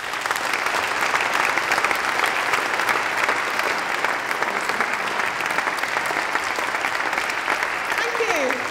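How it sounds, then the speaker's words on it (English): Sustained applause from a large audience, steady and dense throughout, with no break in the clapping. "can we get a big round of applause for Keri?"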